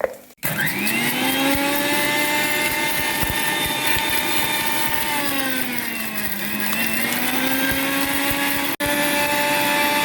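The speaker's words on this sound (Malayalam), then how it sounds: "ഇതൊരു മിക്സിയുടെ ജാറിലോട്ടിട്ട് നമുക്ക് നന്നായിട്ടൊന്ന് അടിച്ചെടുക്കാം" Electric mixer grinder blending a fried onion and tomato mixture with water in its jar, a loud, close, sustained whine whose pitch dips and recovers midway, starting abruptly and briefly cutting out near the end.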